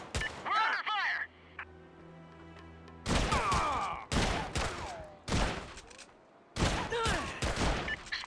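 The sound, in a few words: gunfire in the video game SOCOM: Combined Assault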